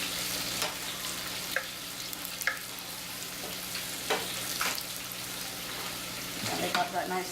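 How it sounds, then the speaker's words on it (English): Onions sizzling in oil in a pan give a continuous close crackle, with a few sharper pops and utensil knocks from stirring, no voices. "Oh yeah, sizzle up my little onions."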